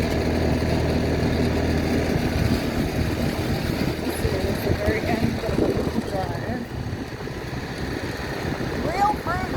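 A motorbike engine drones steadily underneath from a passenger seat on the back while riding around the Big Island of Hawaii, with wind rush and voices talking over it throughout.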